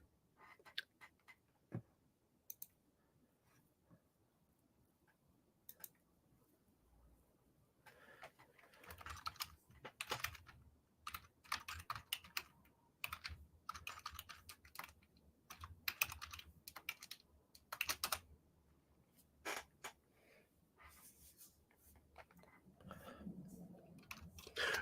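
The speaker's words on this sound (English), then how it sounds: "Can see the furious typing going on." Rapid, irregular bursts of computer keyboard typing, close and fairly quiet, with clusters of keystrokes continuing throughout and no talking.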